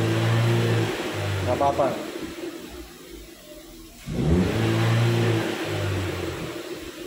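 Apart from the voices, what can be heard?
Chevrolet Spin engine revving against the rev limiter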